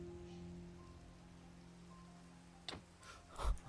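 Rain falling in the Minecraft video game, a soft steady patter of drops at low volume lasting throughout, with a few brief louder clicks near the end.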